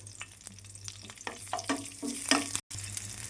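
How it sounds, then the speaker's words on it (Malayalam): Crushed dried red chilies fry in hot coconut oil in a pan, giving a steady close crackling sizzle with a few louder spits and stirring scrapes, then a brief dropout near the end. "ചട്ടി ചൂടായിട്ടുണ്ട്. അതിലേക്ക് ചതച്ച വറ്റൽമുളകാണ് ഇട്ട് കൊടുക്കുന്നത്."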